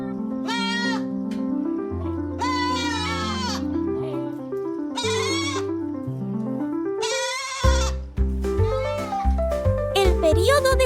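Several goats bleating in turn, loud and close, with long wavering cries separated by short pauses and a deeper bleat near the end.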